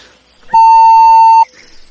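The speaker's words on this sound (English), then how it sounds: "he used 2 words we had to beep out" A single censor bleep used to cover swearing: one loud, steady electronic tone lasting about a second, standing alone with silence around it.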